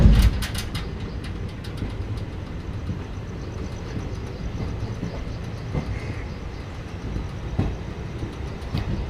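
The 13151 Kolkata–Jammu express, hauled by a WAG 9 electric locomotive, rumbles past with a steady rolling roar and occasional clanks from the rails, loud and continuous throughout.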